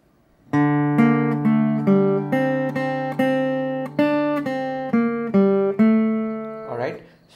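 Acoustic guitar picking a single-note line of Jingle Bells in a beginner lesson, a steady run of clear plucked notes with ringing sustain, played alone and close, with a brief unpitched sound at the very end.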